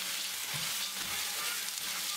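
Peanuts stir-fried in a wok after a few drops of baijiu are splashed in, producing a bright, steady hiss and sizzle with soft tossing and scraping, close and continuous, no speech.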